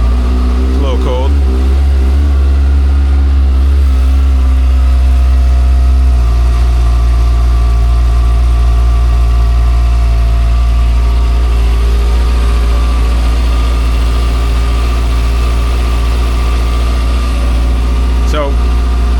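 Cold engine settling into idle just after start-up, a loud, deep, steady rumble close by that drops slightly after the first few seconds, with a voice talking over it.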